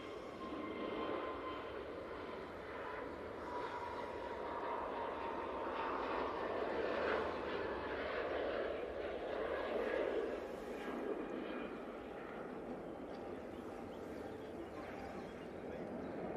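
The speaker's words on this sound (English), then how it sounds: "EasyJet on the roll." An EasyJet passenger jet rolls for takeoff at Manchester Airport, its engines a faint, steady distant roar that swells slightly midway.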